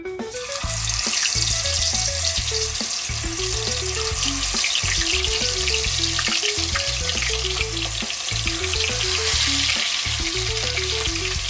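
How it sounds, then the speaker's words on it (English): Steady, loud sizzling of chicken pieces frying in hot oil in a pot, with a dense crackling hiss running throughout and no voices. "I'm gonna start frying my chicken back now. My oil is here, it's hot"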